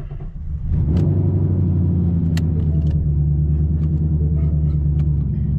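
A Ford Mustang GT engine cranks and catches after a brief quiet moment, then settles into a loud, steady, deep rumbling idle close by, with no talking over it.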